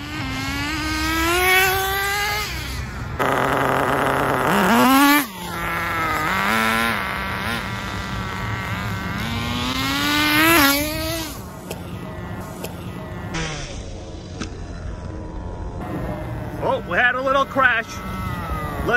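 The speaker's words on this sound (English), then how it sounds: "You know what? This VX18 motor, it pulls." An HSP 1:10 nitro on-road touring RC car with a VX18 engine drives by, its high-pitched two-stroke whine rising and falling through throttle bursts and passes. Someone talks over parts of it.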